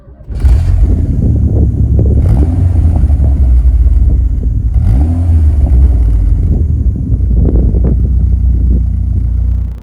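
Rover 600 Turbo (620Ti) pulling away and accelerating, a loud, close engine drone that rises through gear changes with brief breaks in pitch, steady and sustained throughout.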